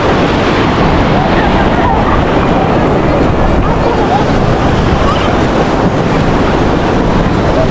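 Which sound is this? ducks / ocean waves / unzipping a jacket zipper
ocean waves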